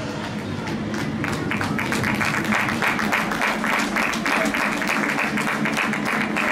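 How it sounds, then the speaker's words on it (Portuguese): A crowd at a youth athletics race applauds the podium winners with steady, dense clapping lasting several seconds, and a voice can be heard faintly. "o vosso aplauso para o pódio infantil, feminino"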